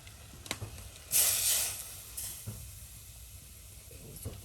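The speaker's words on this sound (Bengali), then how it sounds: "হ্যাঁ, কচু শাকের ডাঁটা দিই।" Taro stems tossed into a hot pan of potatoes and onions for a village-style dried-fish curry, giving a loud burst of sizzling that swells and then settles into a quieter hiss, with a few faint stirring clinks.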